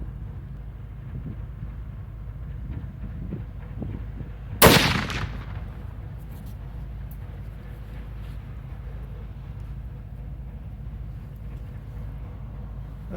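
A single sharp rifle shot fired at a long-range target 235 yards away cracks out loudly once, then fades into steady outdoor background rumble with no talking.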